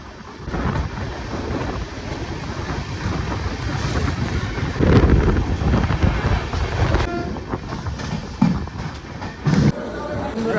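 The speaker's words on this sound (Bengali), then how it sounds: "আমাদের ট্রেন এখন এসে পৌঁছেছে ব্যান্ডেল জংশন স্টেশন" A train rolls into Bandel Junction station with a steady, loud rumble of wheels and carriages that swells toward the middle, with a few sharp knocks near the end.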